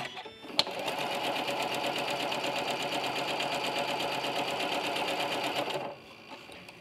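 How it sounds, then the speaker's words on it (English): A domestic sewing machine runs a scant quarter-inch quilting seam through fabric in one steady, continuous burst of rapid needle chatter lasting several seconds, then stops, leaving quiet room tone. "I'm going to sew all the way through from one end to the other using that scant quarter inch seam that we just perfected"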